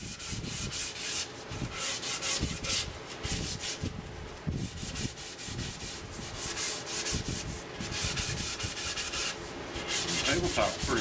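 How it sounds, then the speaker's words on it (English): Sheets of 220-grit sandpaper rub across a wooden pedestal tabletop in repeated back-and-forth strokes, a close, steady scratchy hiss that keeps on without speech. "sand it up to 220. Take my 220 sandpaper with all the grits."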